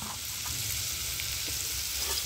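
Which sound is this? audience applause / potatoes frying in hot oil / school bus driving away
potatoes frying in hot oil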